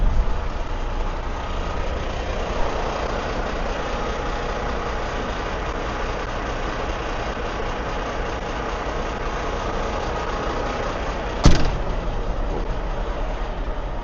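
A semi truck with a 40 ft trailer creeping forward, giving a steady low diesel rumble throughout, with one sharp metallic clank near the end as the tandems slide.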